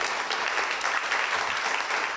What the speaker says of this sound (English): Well, I think we owe this panel a round of applause.